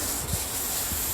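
Sandpaper rubs over a wooden desk in a steady, close, scratchy hiss with faint rhythmic strokes.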